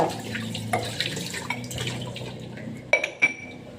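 Dishes being washed at a kitchen sink close by: running, dripping water with scattered clinks of plates, glasses and cutlery, and a couple of sharper knocks near the end.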